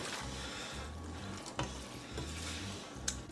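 Stirring soup with diced tomatoes and chickpeas in a pot, with a steady wet scraping and sloshing under a constant sizzling hiss and a couple of sharp utensil knocks.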